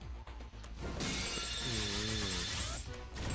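A laser shot slams into a target in the PokeSaga video game, a bright shattering burst with a wavering electronic warble that fades after about two seconds.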